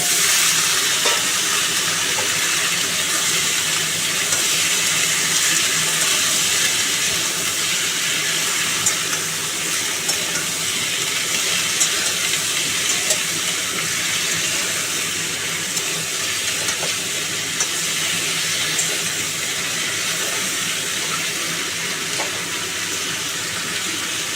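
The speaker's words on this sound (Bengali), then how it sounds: "আলু আর কুমড়োটাকে ভালো করে ভাজবো" Potatoes and pumpkin fry in a hot pan with a steady, loud sizzle that continues evenly throughout, occasional faint stirring scrapes underneath.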